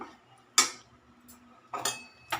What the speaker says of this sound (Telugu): ఇప్పుడు ఒకసారి ఇట్లా కలిపేసుకుందాం.